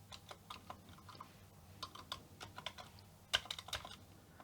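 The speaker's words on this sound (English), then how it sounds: "And now a little test of the keyboard." A Commodore VIC-20 keyboard is tapped in a typing test, producing irregular, fairly quiet key clicks with short pauses and a louder cluster of presses near the end.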